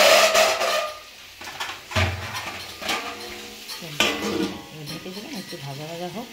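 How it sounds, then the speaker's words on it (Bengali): Vegetables with dried red chilli and panch phoron sizzling in a pan, heard as frying hiss mixed with clanking utensils and stirring scrapes. A voice talks over parts of it. "একটু ভাজা ভাজা হোক"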